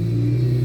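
A car engine with an idle issue ticks over at rest, giving a steady, close, low rumble that holds for under a second with no voices.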